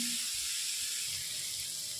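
Soybean chunks fry in a pan with spice paste, giving a steady, close sizzling hiss that holds evenly throughout, with no voices.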